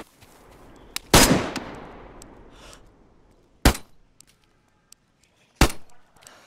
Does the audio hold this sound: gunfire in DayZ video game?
yes